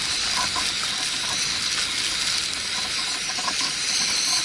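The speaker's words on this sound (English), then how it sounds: "2 cups of water, which we have boiling now" Steady hiss and bubbling of two cups of water boiling in a pot on a backpacking camp stove, a continuous close, even roar without pauses or voices.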